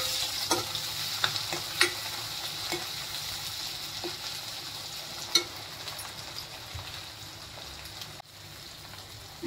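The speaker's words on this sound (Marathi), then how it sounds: "टमाटर पण टाकूया आपण। टमाटरला पण चांगलं भाजून घेऊया।" Tomatoes fry in a pan with a steady close sizzle, broken by a few sharp pops and stirring clicks, before a brief drop in level near the end.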